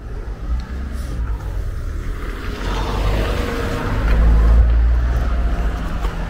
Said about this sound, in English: Lots of traffic though